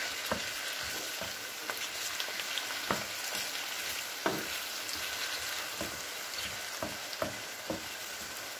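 Tomatoes fry with an onion mixture in a pan, making a continuous moderate sizzle with scattered sharp clicks and taps of stirring. The sound is close and no one speaks.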